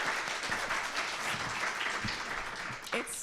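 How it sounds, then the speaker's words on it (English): Audience applause at a live show, a dense wash of clapping that holds steady for about three seconds, fairly close and loud, with faint voices under it and a brief shout near the end. "Applause for this wonderful human."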